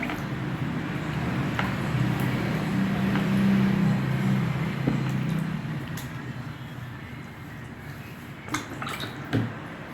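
Warm water splashed on a face to wash off a face pack, soft drips and wet splashes over a low running-water hum, with a few sharper splashes near the end.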